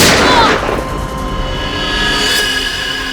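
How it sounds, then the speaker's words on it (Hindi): A sharp gunshot bursts at the start, then a ringing, echoing tail fades into a sustained tonal hum. "उसके बाद दूसरी गोली चली, सब फिर तीसरी गोली चली।"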